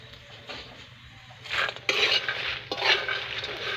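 Marang seeds are stirred in caramelizing sugar in a pan, with bursts of scraping and rattling against the metal that come in uneven waves, close and moderately loud.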